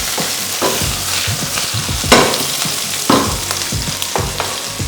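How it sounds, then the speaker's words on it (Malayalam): Shallots sautéing in a pan for a Kerala-style mushroom moli, with steady frying sizzle and repeated stirring scrapes in an irregular rhythm, close and fairly loud with no talk. "ഇതിലേക്ക് നമ്മൾ ഒരു 2 പീസ് ചുവന്നുള്ളി ഉണ്ടായിരുന്നു, അതൊന്ന് വഴറ്റി കൊടുക്കാം"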